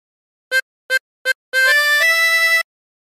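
Tremolo harmonica plays the opening phrase of the hymn There's a River of Life: three short separate reedy notes, then a longer sustained run of two or three connected tones, played alone and close.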